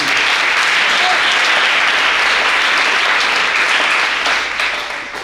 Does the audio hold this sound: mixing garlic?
no